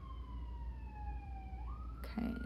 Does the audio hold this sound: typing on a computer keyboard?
no